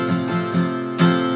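Acoustic guitar strums a few chords on G for the last chorus line of a song, three or four bright strokes with a sustained ringing tail, close and unaccompanied by voices.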